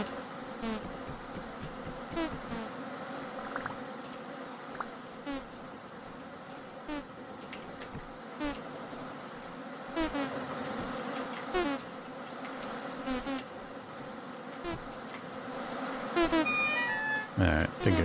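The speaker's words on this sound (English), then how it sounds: "More angry bees!" Angry bees swarm from a hive in the survival game Vintage Story, a dense, continuous buzzing that swells louder toward the end, with occasional other game sounds.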